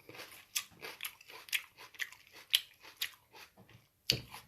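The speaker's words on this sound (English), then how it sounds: "I'm gonna eat this." Sharp crunchy bites and wet chewing of a raw sweet onion, close and loud, repeating in an irregular rhythm with a hard crunch near the end and no talking.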